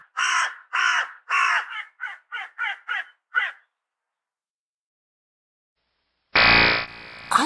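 A crow caws in a burst of about eight harsh, rasping calls, the first few long and the rest shorter and quicker. A pause follows, then a loud electronic buzzing tone starts.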